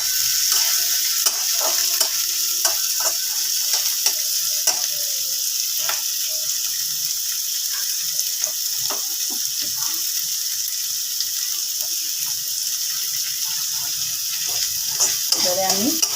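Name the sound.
onion and tomato frying in a pan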